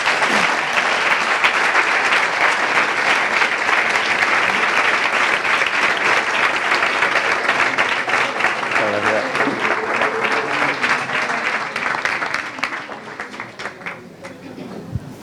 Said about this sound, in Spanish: Así que un aplauso muy fuerte para Jorge Olcina.